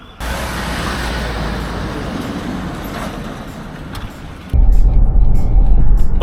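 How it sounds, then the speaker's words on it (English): A Ford Ranger towing a trailer drives past on a rural road near old hand-dug tunnels, its engine and road rumble steady and then surging louder and closer toward the end, with wind noise throughout. "And here comes Sean with the trailer on."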